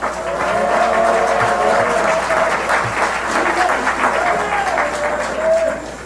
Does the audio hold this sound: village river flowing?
no